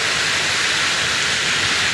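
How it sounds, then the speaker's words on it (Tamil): Water pours steadily over the Thamaraipakkam check dam, a dense, continuous broadband rush like a waterfall, loud and close with no pauses or other sounds. "சூப்பராக அழகாக ரொம்ப ரொம்ப அழகாக தண்ணி கொட்டுது"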